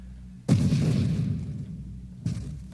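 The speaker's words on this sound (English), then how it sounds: "I do enjoy watching the explosion." Explosions in the space shooter Nova Drift, two booming blasts, the first a loud deep burst with a long rumbling decay and the second a shorter, weaker boom near the end.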